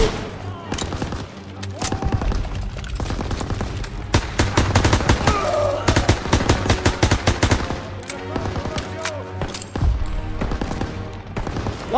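Dense bursts of machine-gun fire and rifle shots crackle throughout a Call of Duty: WWII battle at a stronghold, loud and continuous with rapid rhythmic volleys, while soldiers shout over the gunfire.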